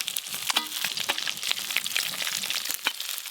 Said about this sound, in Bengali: এবার এই মাছগুলো ভেজে নেব।